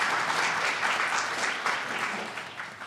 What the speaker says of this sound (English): So give a short round of applause for him.